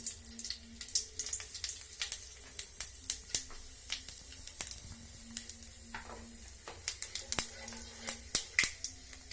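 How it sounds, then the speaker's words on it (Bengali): Bay leaf, dried red chilli and whole cumin seeds crackle and sizzle in hot oil in a pan, with sharp popping spits scattered over a soft steady fry, close and fairly quiet, no talking. "এবার আমি এর মধ্যে দিয়ে দিচ্ছি একটি তেজপাতা, একটি শুকনো লঙ্কা আর কটা গোটা জিরে।"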